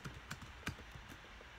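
Someone types a quick search on a computer keyboard: a few soft, scattered keystrokes at close range over a quiet room, with no talking.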